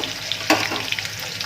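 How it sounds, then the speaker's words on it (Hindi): Medium-chopped onions sizzle in a hot pan as they are stirred. A sharp scrape of the spoon cuts through the steady crackle partway, followed by lighter stirring sounds, all close. "थोड़ी देर प्याज को चलाएंगे"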